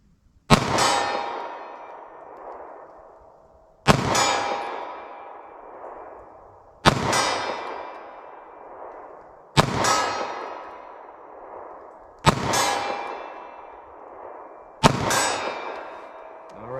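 A short-barrel 9mm pistol is fired slowly at a target 40 yards away, six sharp loud shots spaced about three seconds apart, each followed by a ringing echo that fades before the next.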